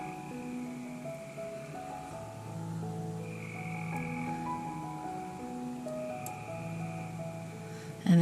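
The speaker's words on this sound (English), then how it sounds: "now I'm being serenaded by the frogs." Frogs croak outdoors in a thick, layered chorus, several voices holding sustained tones that shift and overlap throughout, moderately loud and unbroken.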